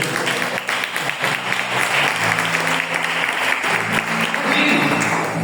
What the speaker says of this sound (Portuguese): Uma oferta de palmas.